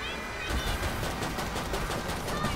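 Rapid pistol gunshots in Killing Floor 2, a dense, steady spatter of sharp cracks through the whole stretch amid a chaotic zombie-fight soundscape, with players talking faintly underneath.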